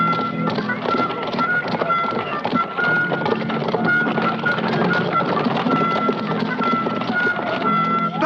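Horses in an old castle-era setting, with steady hoof clatter and movement filling the scene, a dense busy texture throughout with occasional faint voices underneath.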